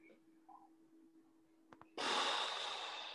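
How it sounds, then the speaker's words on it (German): During a Pilates session, one close, loud, deep breath is drawn in through the nose. Quiet room tone and a couple of soft clicks come before it, and the breath then trails off slowly. "Atmet durch die Nase tief ein"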